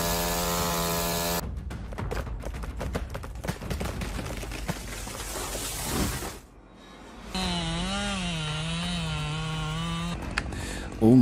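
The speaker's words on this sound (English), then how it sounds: "Those guys not only cut down trees, they also challenge the trees by weight with chainsaws." Chainsaw cutting down trees, a loud continuous motor drone with shifting pitch, then a steadier whining tone after a brief drop near the middle.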